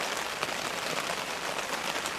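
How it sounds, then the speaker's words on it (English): Rain patters steadily on a tent on a misty day, a dense continuous drumming of drops close overhead with no voices. "It's been raining all day today"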